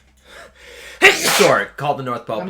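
One sharp, loud sneeze bursts out close by in the middle of casual conversation, with people talking before and after it.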